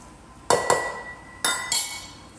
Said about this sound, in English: I'm gonna dump in all of these cherries and pecans